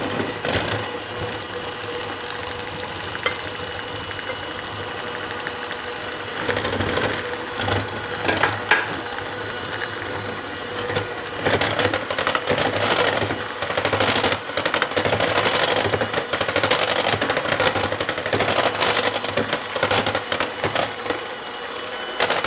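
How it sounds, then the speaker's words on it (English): Stand mixer running on low speed, working melted butter into a Chamorro sweet bread dough, giving a steady continuous mechanical whir with irregular clattering and thumping throughout. "Turn your mixer back to low and just slowly add"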